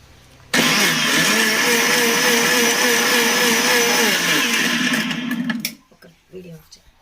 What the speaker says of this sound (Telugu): మళ్ళీ దీన్ని మిక్సీ పట్టాలి గాయస్.